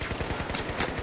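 A grenade blast in Battlefield 4 comes through as a brief burst of sharp, crackling explosive pops in quick succession, fairly loud, inside a short moment of game combat.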